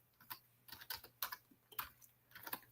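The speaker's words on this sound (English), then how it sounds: "I don't like this keyboard." Fingers tap on a Windows computer keyboard in short irregular bursts of clicky keystrokes, close and fairly quiet, with brief pauses between flurries and a faint hum underneath.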